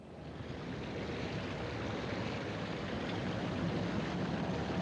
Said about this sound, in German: Sie hören das entfernte Rauschen eines Wasserfalls.